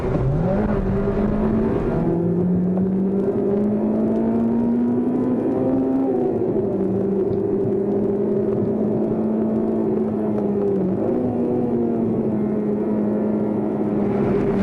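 A Honda 2-litre iVTEC four-cylinder engine revs hard to 8,000 RPM, a loud, continuous high-pitched wail that climbs and holds steady with brief dips at gear or throttle changes, up close and with no talking.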